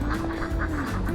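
Several ducks quack in quick, overlapping bursts at close range, loud and busy for about a second with no talking.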